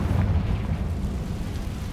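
An explosion from the Confringo spell in a video game: a loud, close, rumbling blast that holds heavy and sustained for about two seconds.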